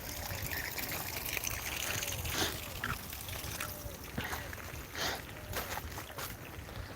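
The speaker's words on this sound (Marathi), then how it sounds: "ढगाळ वातावरणात आमची मोटर चालू झालेली आहे" Water flows and splashes steadily from a solar pump outlet running in cloudy morning weather, with intermittent louder gushes and trickling in between.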